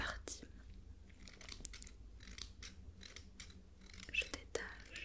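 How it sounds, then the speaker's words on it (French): Small surgical scissors snipping in a close, intimate roleplay, quiet crisp clicks spaced through soft rustling and faint whispery sounds. "On va les détacher avec des petits ciseaux chirurgicaux"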